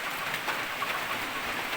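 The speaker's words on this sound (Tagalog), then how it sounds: "So, makikita nyo, maulan na panahon, no? Oh, maulan na panahon." Steady rain pours down in wet weather outdoors, a dense, even hiss of drops hitting surfaces with no voices over it.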